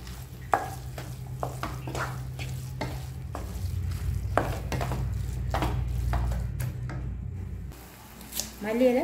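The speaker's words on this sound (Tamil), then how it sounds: "இதில் போட்டு வதக்கிடும்." Capsicum sautés in oil in a pan as mushroom curry is cooked, a steady low sizzle broken by repeated scraping stirs of a spoon, with a person talking over it.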